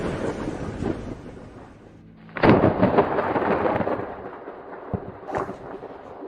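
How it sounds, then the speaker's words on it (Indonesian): Rolling thunder breaks in with a sudden loud crack, then a long rumble that slowly fades, with a second, softer boom following shortly after. No voices are heard. "ada petir, aku takut."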